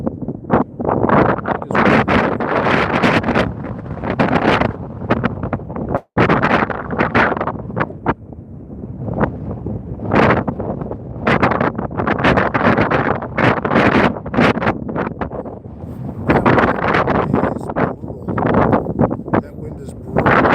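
Strong, cold wind roars across open ice during ice fishing, loud continuous gusting rumble and microphone buffeting that swells and dips, with someone talking over it.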